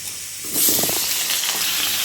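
Potato and papaya pieces frying in hot oil, a loud close hiss and sizzle that swells sharply as the vegetables hit the pan, then keeps crackling steadily.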